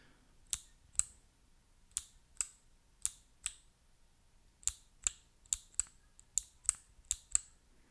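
Clicky Kailh Box Navy keyboard switches, a heavier clicky variety, are typed in a quiet room: sharp, crisp individual key clicks come at an uneven, unhurried pace, with a short pause midway and no talk.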